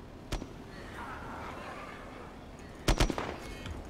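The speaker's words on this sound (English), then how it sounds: "Is he shooting at me?" Gunfire from the game Arma 2 DayZ comes in brief distant bursts: a single sharp shot early, then a tight cluster of rapid shots near the end, over a low, quiet background.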